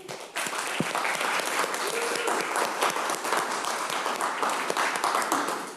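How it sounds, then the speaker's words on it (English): A crowd at a mock city council meeting gives a full, steady round of applause for the 2025 Youth and Government Institute, dense clapping that carries on throughout with a few voices mixed in. "Please give a big round of applause for the 2025 Youth and Government Institute"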